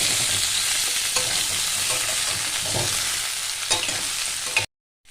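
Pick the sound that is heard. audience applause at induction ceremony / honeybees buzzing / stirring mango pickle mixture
stirring mango pickle mixture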